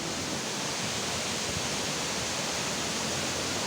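Continuous rushing water of a stream at Hinulugang Taktak, a dense, even hiss close to the listener with no pauses or voices.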